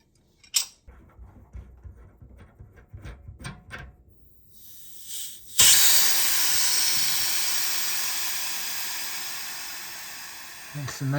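Built-up nitrogen bursts out of a refrigerant line at a TXV in a loud sudden hiss, after several metallic clicks and taps, then holds as a steady rushing hiss that slowly fades over several seconds.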